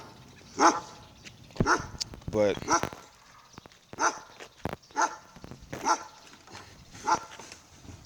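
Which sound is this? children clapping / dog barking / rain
dog barking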